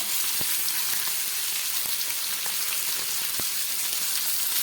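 Tomato and black cumin sizzling in hot oil, a dense, steady crackle with occasional sharp pops, close up and alone with no voices.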